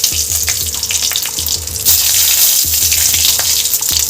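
Whole cumin seeds and torn dried red chillies sizzle loudly in hot oil, a steady bright crackling hiss that stays close and continuous with no talking.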